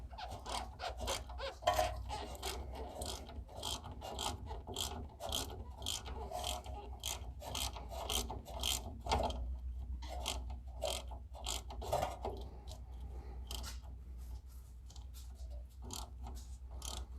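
Rapid clicking of a socket ratchet tightening the lower brake bolts on a Chevy Tracker, steady bursts of sharp ticks with brief pauses between strokes, close and fairly quiet with no talk.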